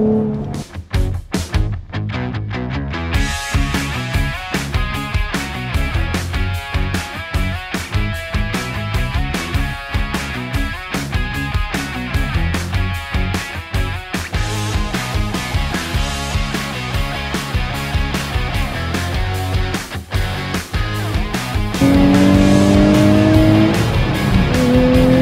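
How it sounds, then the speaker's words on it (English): A 2023 Nissan Z sports car with a 6-speed manual revs and accelerates, loud and close, over a steady rhythmic beat. "What a beautiful day to drive the new Nissan Z."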